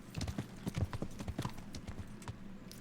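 Horse hooves clip-clop steadily in the medieval role-playing game Kingdom Come: Deliverance, a brisk, even rhythm of close hoof strikes that carries on throughout.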